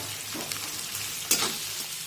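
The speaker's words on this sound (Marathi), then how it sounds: "आणि कांदा छानपैकी या तेलामध्ये परतून घेऊया।" Chopped onion frying in hot oil in a home kitchen pan, a steady close sizzle with a brief stir scrape midway, no voices.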